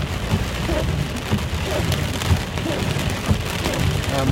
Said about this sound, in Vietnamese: lần đầu mình bị mắc mưa lớn như vậy